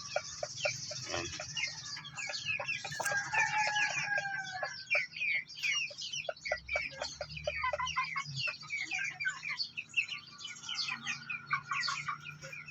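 Hen clucking in a coop beside a nest of about ten eggs she has not yet begun brooding, rapid repeated clucks with other chickens and birds chirping around, fairly faint and continuous.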